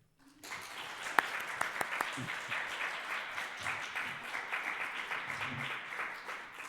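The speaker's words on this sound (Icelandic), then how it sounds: "Gefum honum gott klapp." Audience applause for a composer at an Icelandic humanist ceremony, starting abruptly after brief silence and settling into steady clapping from a sizeable crowd, with a few sharper near claps standing out.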